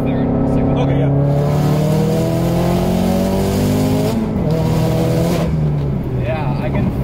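A turbocharged Subaru WRX with an external wastegate, making about 400 wheel horsepower, pulls hard through the gears. It is heard from inside, with loud rising engine pitch, a sharp shift drop partway and a rise again, while people talk over it.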